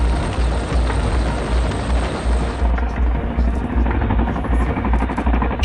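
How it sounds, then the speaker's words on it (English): A Boeing Chinook twin-rotor helicopter thunders close by, a loud, continuous rhythmic rotor thump with a rough engine whine, while a voice talks over it. "the helicopter can be flying away to safety at nearly 190 miles per hour"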